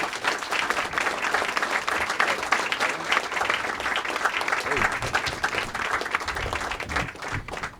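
Sustained applause from an indoor audience welcoming Senator Sheldon Whitehouse before his talk, a dense and steady wash of many hands clapping throughout.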